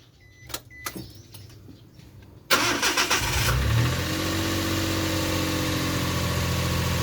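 A Suzuki K6A turbo car engine cranks after a few faint clicks and knocks, catches abruptly, and then settles into a loud, steady idle close by.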